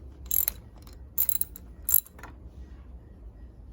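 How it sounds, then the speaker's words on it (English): A ratchet with a 5/8 inch spark plug socket and small extension loosening spark plugs on a 1995 Volvo 960, giving three short bursts of close, crisp clicking separated by pauses, in a quiet setting. "use a 5/8 inch spark plug socket and a small extension to loosen and remove each of the spark plugs."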